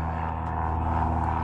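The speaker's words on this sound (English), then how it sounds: "Come on, plane." An airplane passes overhead outdoors, a steady droning engine hum holding at moderate loudness through the brief moment, with no talking.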